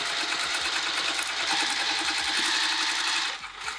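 A Juki sewing machine stitching through vinyl runs with a fast, steady mechanical whir and rapid needle ticking, easing off briefly near the end.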